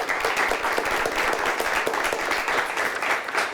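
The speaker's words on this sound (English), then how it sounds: "Let's give both teams a nice round of applause." A studio audience applauds quiz teams at the close of a televised high-school quiz game, with dense, steady clapping that is fairly loud and continuous throughout, with no talking over it.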